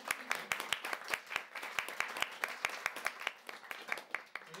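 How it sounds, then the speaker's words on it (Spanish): Light clapping from a small audience thanking a potter for a black pottery demonstration, a few hands beating in an uneven, sparse rhythm, close and moderately quiet. "let's give a little clap to Fernando for doing this to us."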